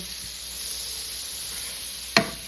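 Vegetables sear in a little butter in the same skillet used for meatballs, giving a steady close sizzle with one sharp clink near the end and no talking.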